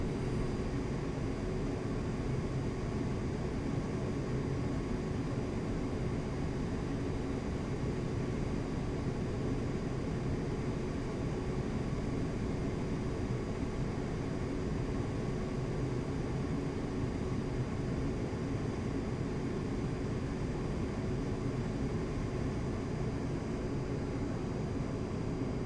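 Steady, broad engine roar of an A-10C aircraft during a landing approach in the DCS flight simulator, a continuous loud drone with a faint high whine, unchanging throughout and alone with no talk.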